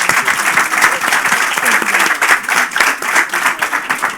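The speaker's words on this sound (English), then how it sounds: "Please give them all a round of applause." A dense, steady round of applause from an audience at an art event, loud and continuous with many hands clapping at once and no break for the whole stretch.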